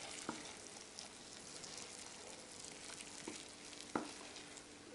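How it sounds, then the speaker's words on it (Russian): Hot marinade poured over cabbage for winter pickling makes a steady, soft hiss and sizzle, with a few sharper splashes and clinks standing out, no talking. "И я его горячим наливаю на капусту."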